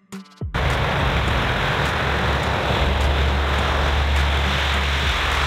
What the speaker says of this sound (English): C-130 Hercules.